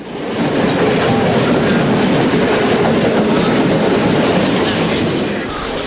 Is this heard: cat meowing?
no